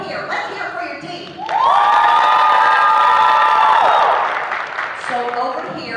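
A game show studio audience erupts in loud cheering, whooping and applause for a team, a swelling roar that holds for a few seconds and then fades back into crowd chatter.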